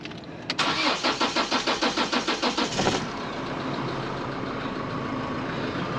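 A Chevrolet Colorado diesel engine cranks with a rapid rhythmic chugging of about a dozen strokes, catches after a fuel filter change and settles into a steady, close idle.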